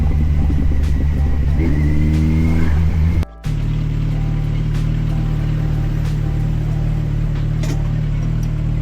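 Kawasaki Versys 1100 SE motorcycle engine pulling steadily while riding, a loud, continuous low drone with rising revs early on, wind rush, and a brief dropout in the middle before the steady hum resumes.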